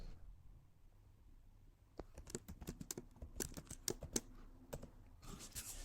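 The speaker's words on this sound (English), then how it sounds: "then we're going to type in a description" Keys clack on a computer keyboard as someone types a description, a quiet pause giving way to bursts of irregular, fairly close tapping that runs to the end.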